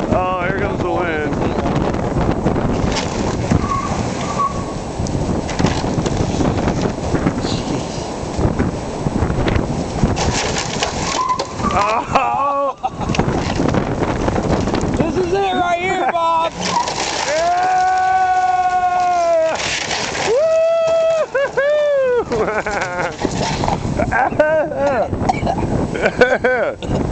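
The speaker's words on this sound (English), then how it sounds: "here comes the wind." Strong wind roars and buffets the microphone throughout a house demolition, a dense, continuous rush with some brief tonal whines rising out of it partway through.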